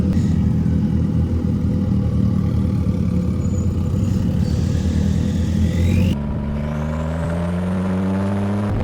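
Formula 4 race cars at the Red Bull Ring roar loudly at close range, engines droning steadily and then revving with rising pitch as the cars get going after being push-started by staff.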